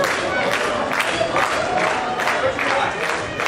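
A dense wrestling-event crowd at an EPW tag team match roars and chants in rhythmic surges, with loud continuous cheering and clapping filling the space.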